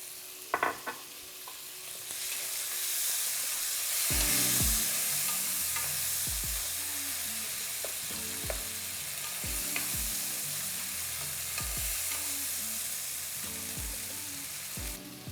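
Tomatoes sizzle and crackle in a hot pan for a beef stew, with a steady frying hiss broken by repeated stirring scrapes and clatters from a utensil.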